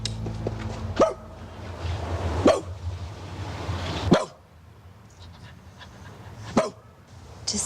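A small dog barks four sharp, separate times at irregular gaps, close and loud, with quiet background between the barks.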